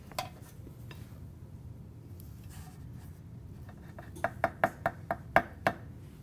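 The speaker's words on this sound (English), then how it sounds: "next step is to spoon the batter into our pre-sprayed pan" Batter being spooned into a sprayed muffin pan for whole wheat muffins: soft scraping at first, then a run of about seven sharp metallic taps of a spoon against the pan, evenly spaced, close and fairly quiet.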